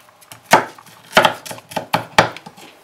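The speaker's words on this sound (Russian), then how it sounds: "Дальше режем лук." A knife chopping onion on a board, sharp thuds coming in an uneven rhythm, about seven cuts, close and fairly loud, with no talk.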